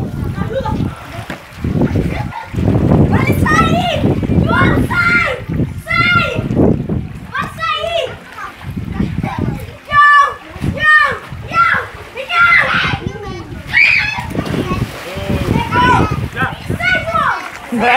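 People splash and bathe in a swimming pool at a country house, with water slapping and churning near the microphone while children and adults talk and shout throughout.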